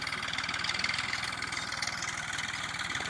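A Farmtrac 45 tractor's diesel engine runs steadily close by, a fast, even low-pitched throb pulsing throughout with no talk.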